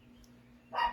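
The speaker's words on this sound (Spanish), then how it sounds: "se hace difícil en un chihuahua, así que me van a perdonar por los ladridos" A chihuahua gives a single short, high yap near the end, after a quiet stretch with faint background hum.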